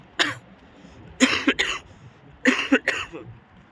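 A person with a cold coughing, a single cough followed by two clusters of deep, harsh coughs in quick pairs, close and loud with no talk.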